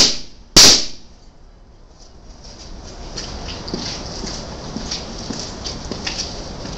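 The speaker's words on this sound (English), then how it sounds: "it shot up to 300 PSI twice, and the safety valve went off" A 300 PSI safety valve on a hydrogen peroxide pressure chamber lets go in one sharp, loud burst, then a quiet low hiss and faint ticking follow.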